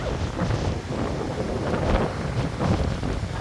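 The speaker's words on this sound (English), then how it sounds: "Oh, it's a bit windy today." Strong wind buffets the microphone in a constant rumbling roar, gusting slightly louder at moments, with no voices.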